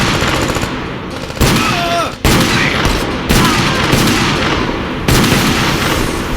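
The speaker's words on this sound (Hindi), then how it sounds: "चलती हुई गोलियों की तेज आवाज और गन्स की चिंगारियों" Loud bursts of gunfire crackle and roar in a dense, continuous barrage, with heavy booming layered throughout.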